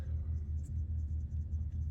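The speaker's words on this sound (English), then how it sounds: "we're in the truck right now" A steady low rumble fills the cabin of a moving truck, a constant engine and road drone with faint ticks and rattles above it, close and without any talking.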